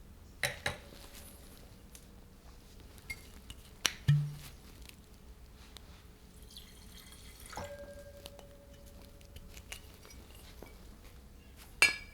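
A wine glass is fetched and set down during a sommelier's Sangiovese and Chianti tasting. A few sharp glassy clinks sit spaced apart over quiet room tone, and one of them leaves a brief ringing tone. No one speaks.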